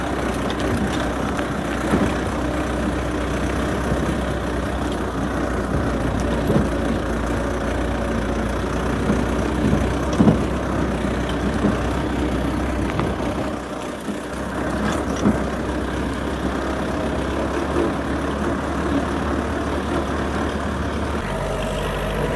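Truck engine droning in fifth gear while hauling firewood across a rough field off-road, a loud continuous low rumble with steady load and minor fluctuations, no voices.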